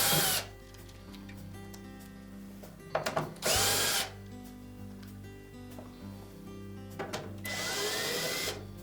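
A power drill backs screws out of a Frigidaire dryer door, with short whirring bursts that start and stop several times. The bursts are close and loud, with quiet handling noise in the gaps.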